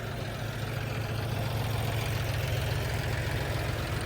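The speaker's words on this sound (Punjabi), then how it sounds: "ਅਸਲ 'ਚ ਬਾਈ ਜਿਹੜਾ ਜੌਂਡੀਅਰ ਦੇ ਇੰਜਣ ਹੈ ਨਾ ਉਹ ਸਾਰੇ ਇੱਕੋ ਨੇ" A John Deere 4x4 tractor of about 39 to 40 horsepower idles nearby. Its steady, low, throbbing diesel hum holds evenly for the whole stretch, with no voices.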